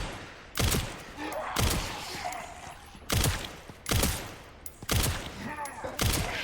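Handgun shots in the Resident Evil Requiem video game fire in a steady volley of about seven sharp cracks, each with a short echoing tail, separated by brief quieter gaps.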